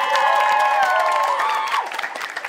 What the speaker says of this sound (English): a massive round of applause for Makuka.